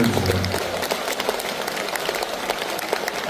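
An audience at a Korean concert claps together, a steady, moderately loud patter of many hands with a few sharper individual claps, continuing throughout without speech.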